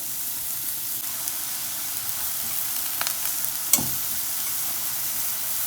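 An eggplant patty sizzles in hot oil with a steady, close hiss, one sharp spatter or pop cutting through midway.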